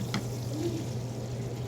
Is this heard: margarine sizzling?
yes